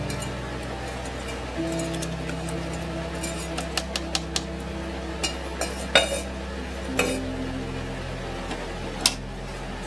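A spoon stirring a pot while cooking gives scattered light clinks and scrapes over a steady low hum, with the metallic taps irregular and fairly close.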